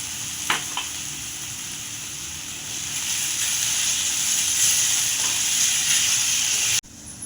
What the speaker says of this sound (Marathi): त्यानंतर आपल्याला टाकायचं आहे बारीक चिरलेला कांदा. आणि कांदा आपल्याला मस्त असा ब्राऊन करून घ्यायचा आहे बघा.